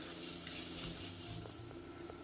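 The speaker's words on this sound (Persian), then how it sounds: "پیازمون داره سرخ میشه" Onions sizzle steadily in a hot pan, a constant crackling hiss with a few soft stirring scrapes close by.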